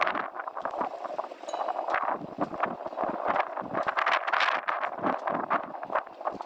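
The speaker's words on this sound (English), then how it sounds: "we are caught by a strong gust of wind pushing us towards the moored boats to starboard" Blustery gusts buffet the microphone on a single-propeller boat berthing in a marina beside moored boats, rough and uneven, with faint clinks and knocks mixed into the steady roar.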